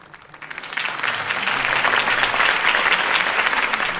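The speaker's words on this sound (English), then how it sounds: "could have heard that applause" A crowd bursts into applause after a campaign speech in a Batman video game, clapping swelling within the first second into a dense, sustained roar that holds steady to the end.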